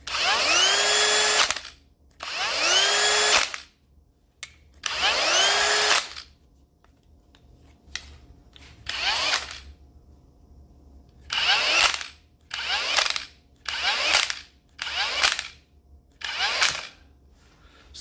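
A Hilti Nuron cordless drill runs in repeated bursts, loud close whirring triggers lasting a second or two each, first three longer pulls, then a short pause and a quicker series of shorter bursts separated by near silence.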